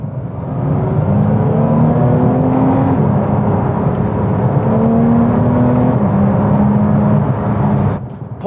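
Porsche 911 GT3 Touring engine heard from inside while driving, a loud, sustained droning whir with rising pitch sweeps as it accelerates through gears, steady throughout and briefly dipping near the end.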